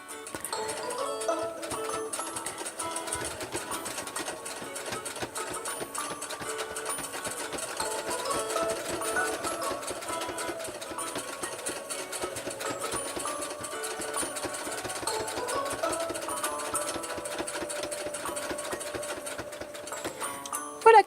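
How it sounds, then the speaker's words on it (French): A sewing machine stitches a T-shirt dress in a fast, continuous mechanical whir with rapid ticking needle strokes, running steadily at close range with only brief slowdowns. "nous allons aller à la machine à coudre"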